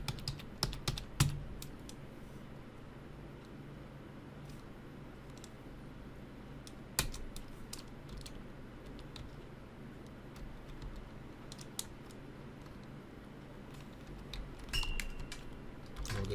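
Keys on a computer keyboard are tapped in quick, uneven bursts while a password is typed, with faint clicks and a few sharper strikes over a quiet room hum.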